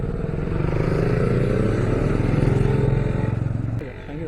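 A Honda CB Shine SP motorcycle engine runs with a steady, close low drone that eases slightly near the end, while people talk over it.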